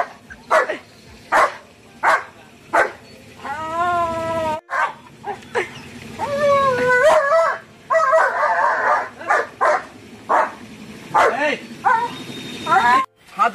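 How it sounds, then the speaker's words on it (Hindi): A German shepherd barks repeatedly and loudly at strangers, close by, with whining and howl-like yelps between the barks and someone talking over it. "गब्बर अननोन लोगों पे भौंकता है बहुत ज़्यादा"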